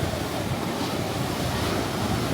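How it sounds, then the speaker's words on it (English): Strong wind buffets the microphone in a constant broadband roar on a Greek island, with no pauses or voices. "It's very windy."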